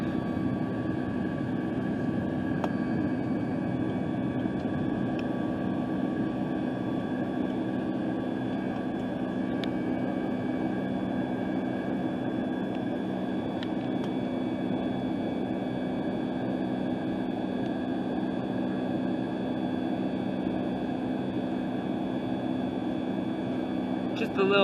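Steady airliner cabin drone during climb-out on a Houston to Phoenix flight, a constant loud engine hum with tonal whine layered on top, continuous and unbroken throughout.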